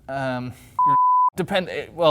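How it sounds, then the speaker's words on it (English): A single steady censor bleep tone of about half a second drops in between stretches of talk, covering a swear word, with voices heard just before and right after it. "do we have to bleep that out?"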